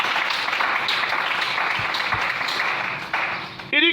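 A church congregation applauds to acclaim the Lord, a dense, steady wash of many hands clapping close and loud for several seconds, fading briefly near the end.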